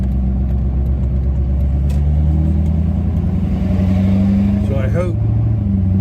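Busy road traffic drones continuously in a town, a low engine rumble with a vehicle briefly rising and passing near the end, heard beneath someone talking throughout.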